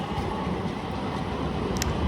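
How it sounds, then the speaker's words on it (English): Tram rolling through a rainy Istanbul street near Sultanahmet, a steady rumbling rail drone with faint clatter, continuous and fairly close. "This is the tram"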